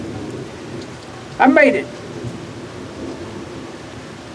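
Steady heavy rain hisses throughout during a thunderstorm near Ozark, with low rumbling thunder beneath, and someone briefly speaks a few words close up partway through.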